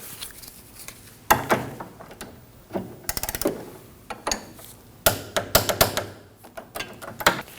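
A torque wrench tightens a 14mm bolt on the front sway bar link of a 2003-2006 Subaru Baja, with close, quick clusters of ratcheting clicks and metallic taps in short bursts, and no voices.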